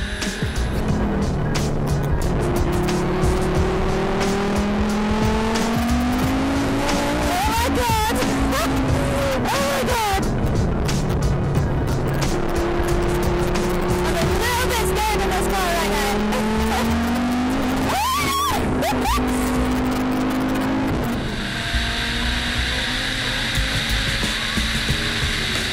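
Race car at full throttle on a track after a warm-up lap, engine note climbing through repeated gear pulls, loud and close, with brief tyre noise near the end.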